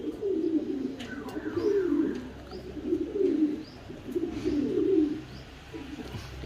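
Pigeons in a home loft coo in repeated rolling phrases, about five close throaty bursts in a row over faint background noise.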